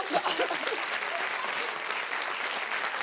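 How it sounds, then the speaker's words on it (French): A studio audience on a French talk show claps steadily for a few seconds, a dense even wash of applause with a brief voice near the start. "Je vous demande d'applaudir très fort, s'il vous plaît, Médicustos."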